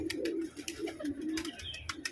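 A pigeon coos in low, soft, repeated throaty phrases close by, amid scattered clicks and rustling.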